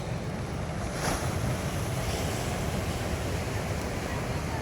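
Sea waves wash steadily in a continuous surf roar at Kollam beach, mixed with wind rushing across the microphone.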